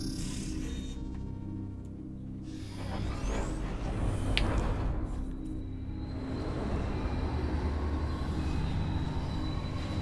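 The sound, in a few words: large tram arriving in Metroid Prime 3 video game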